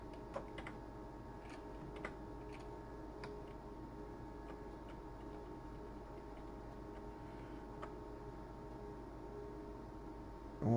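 Computer keyboard arrow keys are pressed as faint, sparse clicks in a quiet room, irregular taps spread across several seconds over a low steady hum, with no talk.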